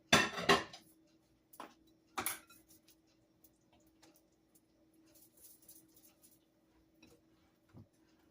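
Banana nut muffin batter is stirred in a bowl with a utensil. A few sharp clinks come first, then softer, sparse taps and scrapes, close by and quiet.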